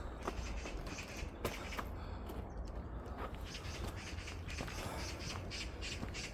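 Harsh squawking calls of a magpie in a park ringed by hills, repeated several times against steady outdoor background noise, moderately close, with no talking.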